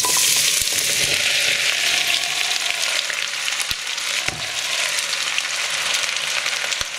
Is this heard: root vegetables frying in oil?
yes